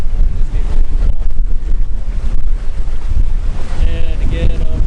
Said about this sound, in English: Show you up in the palm trees how windy it is.